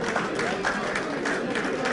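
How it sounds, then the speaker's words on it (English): Scattered applause from diners at a boxing dinner show, steady light clapping with a murmur of voices underneath after a round ends. "Splattering of applause from the uh, the diners."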